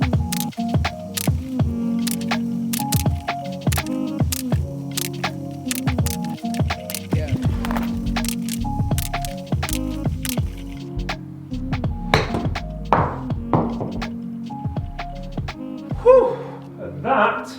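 Wedge shots strike golf balls one after another at a steady, quick pace, each a sharp close click. Some are followed by a ball landing or rattling. Background talk comes in near the end.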